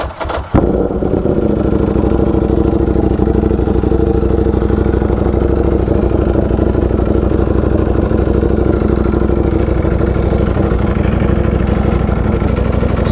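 A V4R sport motorcycle engine starts with a quick burst, then runs continuously at a loud, close, steady idle with a rough mechanical clatter throughout.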